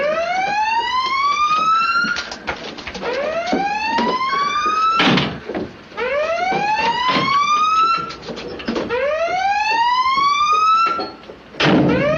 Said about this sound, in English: Sound collision alarm.